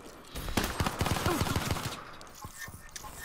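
Rapid gunfire bursts in a first-person shooter, a quick run of sharp close shots followed by a few scattered single blasts as the volley tapers off, loud and punchy with a voice briefly present.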